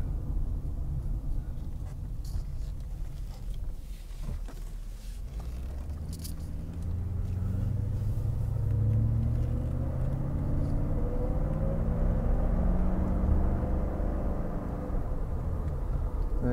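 A Mercedes R129 500SL V8 runs steadily outdoors, its low rumble rising partway through as the engine is revved and accelerates, then holding a louder, even drone to the end.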